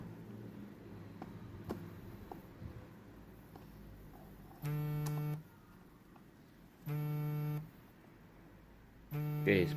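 A phone rings three times in short electronic bursts while a Honda FU 150 injection motorcycle filter box cover is being modified, each ring loud over a quiet background hum with no talking.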